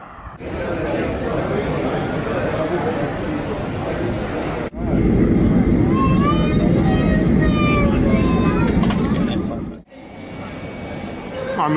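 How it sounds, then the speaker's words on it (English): Brisbane airport terminal ambience, a dense murmur of crowd chatter and hum with a brief break, then warbling announcement-like tones and continued background bustle under people talking. "I'm in the Brisbane airport."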